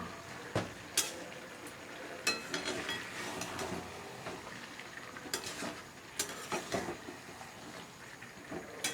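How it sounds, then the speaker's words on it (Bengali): Chicken curry with potatoes hisses in a pot as a spoon stirs it, steady close sizzling with scattered scraping and clanking strokes against the metal. "আলু দিয়ে ভালো করে নাড়িয়ে নিয়ে তারপর জলটা দেবো।"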